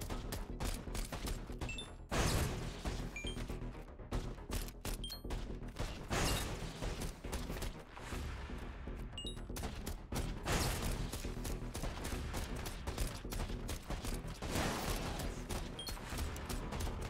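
Turret gunfire in the roguelike video game Biters & Bullets: a dense, steady fusillade of rapid shots with occasional faint metallic pings, continuous and fairly loud with no talking.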